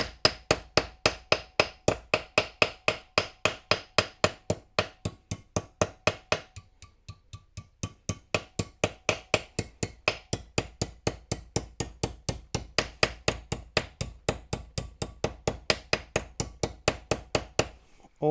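A hammer taps repeatedly along the edge of a 1/6 scale Armortek Series 1 Land Rover model's rear capping, a fast, even run of sharp metallic strikes, close and clear, with a short pause partway through before the rhythm resumes.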